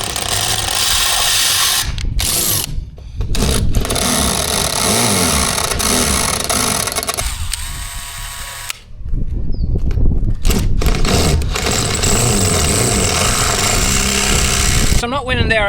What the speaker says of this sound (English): Now can we drill them out?